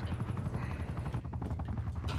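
Aircraft drone from an enemy spy plane passing overhead in a Call of Duty: Black Ops Cold War Hardpoint match, a steady rotor-like rumble under game effects with no speech.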